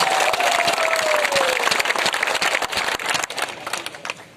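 Thick, crackling applause from a crowd at a first political rally in Tripura, steady and loud throughout, with a brief whistle early on and faint voices near the end.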